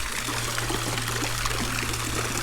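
Water feature trickling beside a backyard swimming pool at a contemporary Las Vegas home, with a steady continuous splash and a low hum underneath, fairly close and with no talk.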